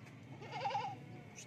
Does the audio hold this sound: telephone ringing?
no